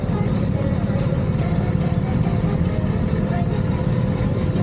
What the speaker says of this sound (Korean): 역시 할리의 소리는 남자의 심장을 뛰게 합니다.